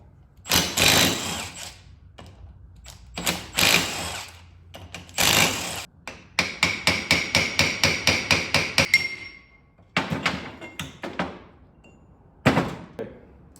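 Sharp, loud metal hammer blows strike a rear end differential to knock the ring gear free, coming in spaced single hits and then a rapid run of about a dozen ringing taps, with quiet pauses between bursts.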